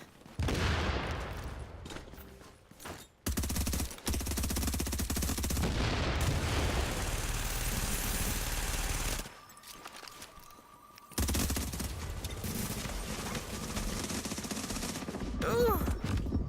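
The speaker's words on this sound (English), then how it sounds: "Suppression fire." Bursts of suppressive gunfire rattle in The Division, dense sustained volleys broken by short pauses, loud and close with a faint voice now and then.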